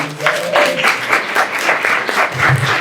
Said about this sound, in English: Everybody give Jen a round of applause.